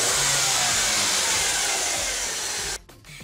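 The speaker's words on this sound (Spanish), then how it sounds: "Ahora ya se puede acelerar y el motor acelera normalmente" A Kia Sportage engine running after a repair for lost power, a steady loud mid-range engine drone held for nearly three seconds before cutting back abruptly, close to the car.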